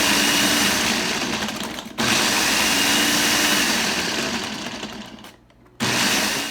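Blender pulsing ice for Kool-Aid slush, a loud steady motor grind with crushing ice that runs nearly continuously, broken by two short pauses between pulses.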